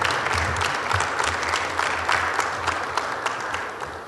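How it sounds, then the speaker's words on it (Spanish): Audience applause welcoming a speaker at a forum panel on food sovereignty and security, a steady dense clapping that fills the room throughout without talk. "Sugiero que le demos un afectuoso aplauso de bienvenida al doctor Guadarrama."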